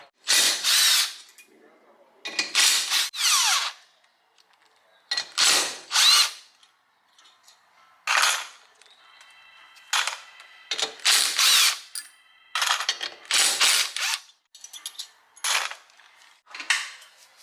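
A power tool unbolts the back scroll of a supercharger on a 1995 Ford, sounding as a series of loud, close, whirring bursts, each about a second long, separated by short pauses, with faint ratcheting clicks between them.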